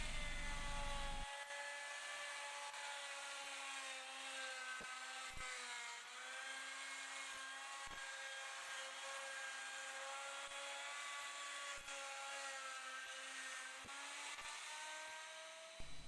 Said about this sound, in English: To start the route, put the bit in the pilot hole and route clockwise.